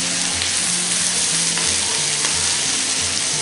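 Spices and red chilli powder with kasuri methi fry in a pan over medium flame for a paneer capsicum dish, giving a loud, dense, continuous sizzle close up, with no talking.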